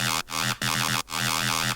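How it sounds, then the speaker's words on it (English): A layered synth chime with a bitcrushed layer adding crunch and an old-school tone plays a short melodic phrase of bright, buzzy sustained notes separated by quick gaps. "There's also a bit crushed layer to kind of give it a bit more crunch"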